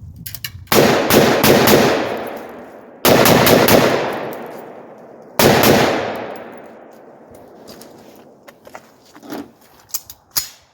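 A 13-inch rifle fitted with a Tac Fire linear compensator fires outdoors at night, three loud, sharp shots spaced a couple of seconds apart, each trailing a long fading echo, followed by faint clicks and rustling.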